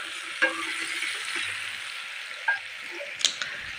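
Broiler chicken stirred in a pan, a moderate steady sizzle broken by a few sharp clicks of a spoon against the metal, no talking.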